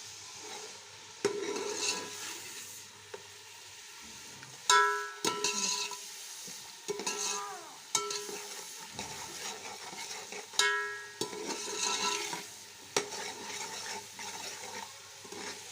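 Ginger, garlic and green chili frying with spices in a pan for chana chawal, a steady close sizzle with frequent stirring scrapes and occasional clinks of a utensil, no talking.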